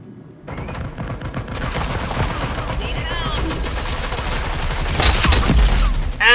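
Automatic gunfire in a Rogue Company match: a sustained, loud stream of rapid shots that grows heavier toward the end, with a voice talking over the shooting.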